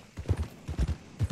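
Horse hooves clip-clop at a walking pace in Red Dead Redemption II, with several soft, fairly close thuds in uneven pairs and no voices.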